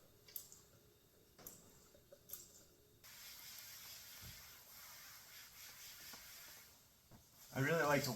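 Release agent sprayed onto clay and a melamine concrete form comes through as a sustained soft hiss after a few short ticks, with a louder closer burst near the end.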